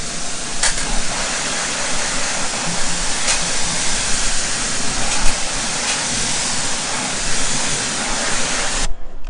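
Water from a hose spray nozzle rinses a car wheel and tire, a steady close broadband hiss that runs without a break for about nine seconds before it cuts off, with no talking.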